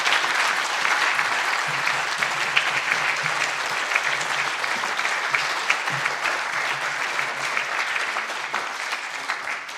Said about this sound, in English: please, another round of applause for our prize-winning authors